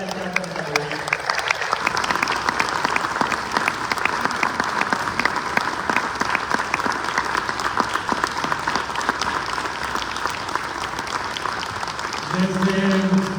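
A theatre audience at a state theatre festival gives sustained, dense applause in tribute, with the clapping steady for several seconds. Voices briefly speak over it at the start and at the end.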